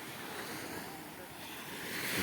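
Sea waves wash onto a beach in a soft, continuous surf with some wind noise, faint and steady with a slight swell at the end.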